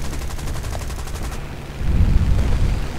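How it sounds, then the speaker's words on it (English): Anti-aircraft gun fire in War Thunder, a rapid rhythmic burst of shots followed by a heavier rumbling blast over steady engine drone. "anti-aircraft, stop shooting at me!"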